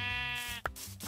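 A sheep in the video game Minecraft gives a single short, close, clear bleat, quickly followed by a brief click.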